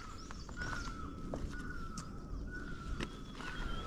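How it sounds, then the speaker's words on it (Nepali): A koel calls in the forest along the Annapurna Base Camp trek in Nepal, repeating short rising whistled notes. The calls are faint and distant, heard alone over quiet background with light rustling. "यहाँ कोइली कराएको आवाज सुनिरहेछ"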